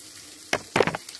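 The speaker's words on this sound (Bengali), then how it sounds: "আলুটাকে হালকা ভেজে নেওয়ার পর এবার আমি গুঁড়ো মশলাগুলো দিয়ে দেবো।" Over a quiet background hiss, potatoes and ground spices frying in a pan give a few short bursts of sizzle and stirring, one brief and one longer, then a faint tail.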